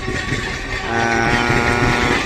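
Steel-bodied local train passing through busy Dumdum Junction, a loud continuous roar of wheels and carriages with rattling, steady and close throughout, no voices.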